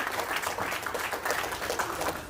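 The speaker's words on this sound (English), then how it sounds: "let's give him a big round of applause." A church congregation gives a brief round of applause, a dense, even patter of many hands clapping close by with no voices standing out.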